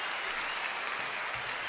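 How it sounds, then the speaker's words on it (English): A round of applause plays as a steady wash of clapping, moderately loud and continuous during a livestream discussion on herbalism. "Be a round of applause for some great information."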